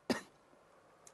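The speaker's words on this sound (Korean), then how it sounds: "죄송해요. 기침해서." A single sharp cough from a teacher with a cold during a Korean-language exam lesson, close and brief near the start, followed by quiet room tone.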